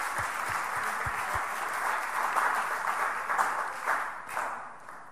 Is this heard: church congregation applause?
yes